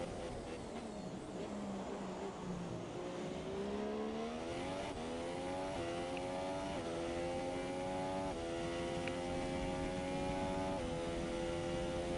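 High-pitched F1 car engine in the F1 2017 racing game revving hard under throttle, rising in pitch through several quick upshifts, loud and continuous with no voices.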